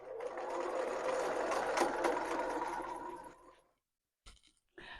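A sewing machine runs a steady stitch at 2.5 length close to the fabric edge of an A-line dress, a whirring mechanical hum for several seconds before it stops, followed by a couple of brief clicks.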